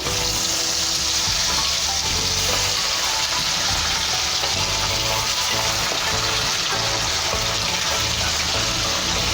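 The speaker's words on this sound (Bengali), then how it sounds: "আমুদে মাছগুলো ভাজবো বলে কড়াইয়ে তেল দিয়ে দিয়েছি এবারে মাছগুলো আমি দিয়ে দেব" Amudi river fish frying in hot oil in a wok produce a loud, dense, continuous sizzling hiss that stays constant throughout.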